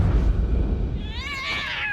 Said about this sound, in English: A cat in a sack.